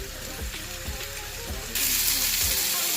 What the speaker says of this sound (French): une fois que mes oignons sont revenus, ils sont, comment dirais-je, ils sont cuits, et on va rajouter la viande hachée